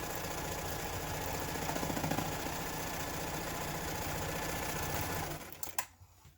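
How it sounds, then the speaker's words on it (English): A sewing machine stitches a quarter-inch quilt seam on a paper-pieced mug rug, a rapid, steady mechanical chatter held close and continuous for about five seconds before stopping with a few light clicks. "I'm just gonna go ahead and stitch this together"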